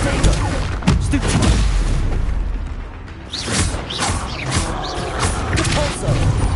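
Confringo spell blasts from Hogwarts Legacy go off in loud booming bursts with whooshing streaks and crashing debris, several impacts in quick succession over a rumbling combat bed.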